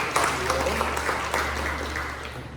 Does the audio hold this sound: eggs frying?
no